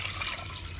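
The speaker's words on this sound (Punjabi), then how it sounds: "ਕੁੱਕਰ ਦੇ ਵਿੱਚ ਅਸੀਂ ਪਾਣੀ ਪਾ ਲਿਆ" Water pours into a pressure cooker for boiling white chickpeas, a brief steady splashing rush heard close and fairly quiet, with no voices over it.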